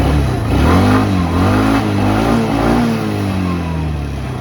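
A medium engine in neutral revs up and down as the throttle opens, a loud, close, steady roar whose pitch climbs and sags over a few seconds with no talking.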